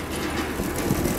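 A homemade wind turbine runs under load at around 100 volts, producing a continuous low, rumbling mechanical vibration like a heavy engine drone, with no voices.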